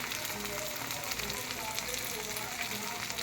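Coriander powder fries in hot oil in a pan with other ground spices for Bengali egg curry, a continuous close hiss and crackle holding steady throughout.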